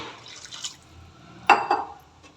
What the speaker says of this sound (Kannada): ನೋಡಿ, ಇನ್ನೂ ಸ್ವಲ್ಪ ನೀರು ಹಾಕ್ತಾಯಿದ್ದೀನಿ.